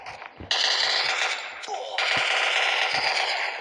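Rapid gunfire in a video game, loud sustained bursts of automatic shots with a brief pause and a clicking mechanism between volleys.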